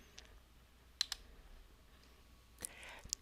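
A few sharp, close mouse clicks on an OK button, spaced irregularly over near silence.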